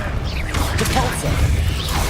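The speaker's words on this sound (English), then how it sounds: "Repulsor." A Repulsor spell is cast in the Hogwarts Legacy video game amid loud combat, with a whooshing magical burst and mechanical crashes over a dense, steady wash of noise.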